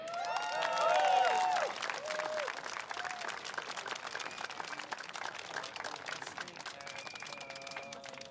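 Crowd at a political election rally in Singapore bursting into applause, a dense clapping swell that peaks early then settles into steady sustained clapping with faint cheers.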